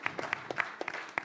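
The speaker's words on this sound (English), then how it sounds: "Big applause to all of us" A few people clap sparsely at a panel discussion on the future of work, with isolated, uneven handclaps close to the microphone over a short stretch.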